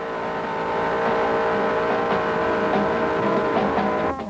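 A 1969 Plymouth GTX with a 440 engine driving on a test run at about 50 mph, its steady, loud engine drone and road roar holding close throughout with no talk.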